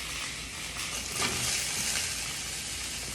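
Fajita mix sizzles in a pan with olive oil, a steady close hiss of frying with a brief surge partway through and no voices.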